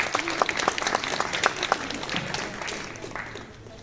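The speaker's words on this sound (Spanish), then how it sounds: "Recibámoslos con un fuerte aplauso." Applause from a seated audience at a book presentation of Alberto Hidalgo's poems, dense steady clapping that gradually thins and fades toward the end.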